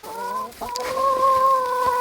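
Several chickens, including young roosters, cluck and murmur close by in a coop, with a higher bird call sustained over the soft, continuous flock chatter.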